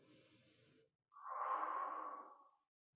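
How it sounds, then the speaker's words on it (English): A single long, steady breath drawn in during a hip-opening yoga stretch, close and soft, preceded by a quieter airy exhale, with no talking. "Take 2 breaths."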